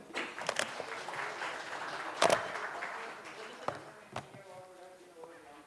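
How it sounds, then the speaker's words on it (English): Applause from an audience at a panel discussion event on tariffs, scattered claps with a few sharp louder hits, fading toward the end as the room quiets, with faint voices underneath. "A round of applause for him."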